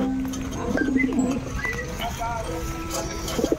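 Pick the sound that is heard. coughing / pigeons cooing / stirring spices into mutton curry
pigeons cooing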